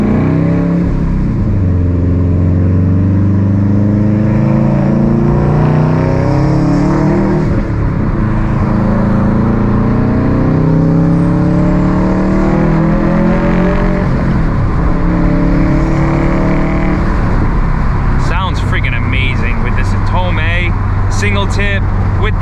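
A 400whp Subaru STI with an FP Blue turbo running on ethanol revs hard through rising gears, loud from inside the car with repeated climbing engine sweeps, while a voice talks over it.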